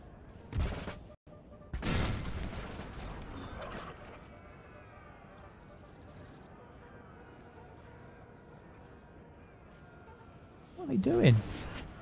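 Musket volley fire from soldiers in Napoleon: Total War, a couple of loud crackling bursts early on and another near the end over a low battlefield rumble, with occasional game voices.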